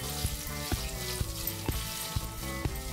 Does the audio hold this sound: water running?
no